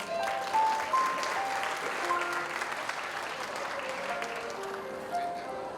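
Audience applause at a 20-year school reunion for St Aloysius alumni, sustained even clapping from a room full of people, with faint tones sounding over it.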